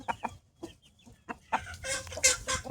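Saigon chickens, including breeding hens, cluck in a coop, first in scattered short clucks, then in a busier overlapping chorus of calls close by, with no talking.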